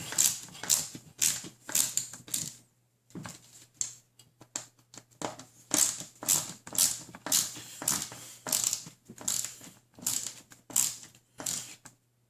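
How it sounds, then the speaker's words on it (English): Nylock nuts being run down tight on a Tamiya model flatbed trailer, a close, busy stream of small ratcheting and clicking mechanical sounds in quick bursts with one brief pause, no voices. "So they just screw in, run them up nice and tight."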